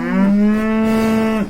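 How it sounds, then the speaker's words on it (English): A cow gives one long, loud, steady moo lasting about a second and a half, close and alone, with a deep sustained tone that cuts off sharply at the end. "Cows are also known as cattle."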